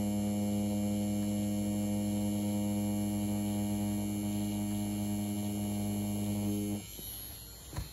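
A BRONC Wireless Hummingbird rotary tattoo machine runs with a steady, close, low buzzing hum that cuts off abruptly near the end.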